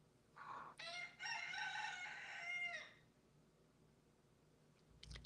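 A rooster crows one long cock-a-doodle-doo close by in a quiet morning setting, followed by a short faint call, with no talk.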